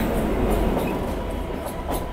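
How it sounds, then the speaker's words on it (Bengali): A Bhagirathi mail passenger train passing a station on the Sealdah line, a steady loud rumble of wagons rolling by with rail clatter throughout. "আর একটা মেল ট্রেন আসছে, দেখা যাক ট্রেনটা কী ট্রেন।"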